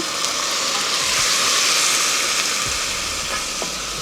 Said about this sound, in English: you first want to deglaze your pot with a little red wine